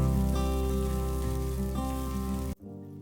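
Green peas, chopped ginger and garlic sizzle steadily in hot oil in a pan, a close, even crackle that cuts off abruptly near the end.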